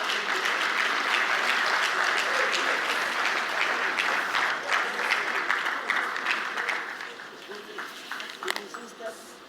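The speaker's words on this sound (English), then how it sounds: "Round of applause, please." An audience at the Afreximbank 2025 Annual Meetings bursts into steady applause at the launch of the African Trade Report, a dense roar of many hands that holds for several seconds and then slowly thins out.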